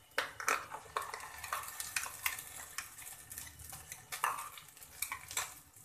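Spoon scraping and clinking against a pan as pea puree is stirred into golden-brown fried onions, with a soft sizzle underneath; irregular repeated strokes, close and fairly quiet, no talking.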